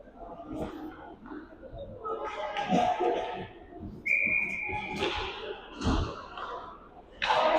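A referee's whistle at an ice hockey game sounds in a couple of sharp bursts over arena noise, thuds and crowd murmur.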